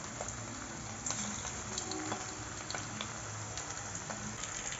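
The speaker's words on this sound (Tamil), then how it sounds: "பாருங்கள், இறால் நல்லா பொரிஞ்சிருச்சு" Prawns deep-frying in hot oil for crispy pakoda, a continuous low bubbling sizzle with scattered small pops, steady and close, with no talking.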